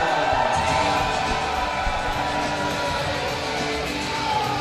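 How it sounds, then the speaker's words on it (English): Big crowd at an amateur boxing night cheering as the fighter Raymond Bateman enters the ring, a dense, loud wash of shouts and whoops filling the hall continuously, with a voice faintly under it. "Raymond has a big crowd here tonight"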